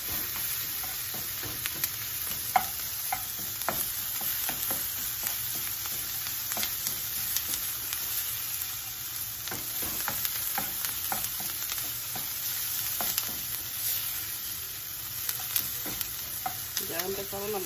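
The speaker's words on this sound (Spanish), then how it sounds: "Empieza uno a poner la cebolla y el ajo y pues está bien, ya los olores empiezan." Chopped onion and garlic fry in a pan, a continuous close sizzle with scattered crackles and pops, stirred now and then, with no talking.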